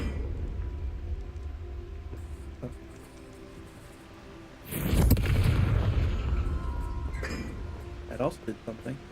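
A Confringo blasting curse from Hogwarts Legacy goes off partway through as a sudden loud booming burst, then a sustained rumbling roar, with a person talking over the game sounds.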